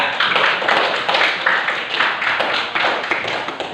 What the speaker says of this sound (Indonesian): Cukup, kasih aplaus untuk kelompok 3.